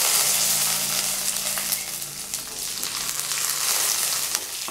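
Curry leaves and halved dried red chilies sizzle in hot oil for a chana sundal, a loud, dense, continuous crackle close up with a brief low hum under it and no talking.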